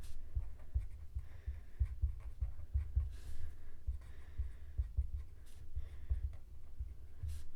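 Marker or chalk writing on a board during a math class, a steady run of soft scratching strokes with a low rumbling background, no speech.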